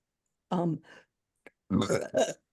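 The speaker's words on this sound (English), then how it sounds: "when energy moves, I burp." Several burps from a person in a quiet room: a loud belch, a tiny click, then two more loud, throaty burps in close succession, with no talking.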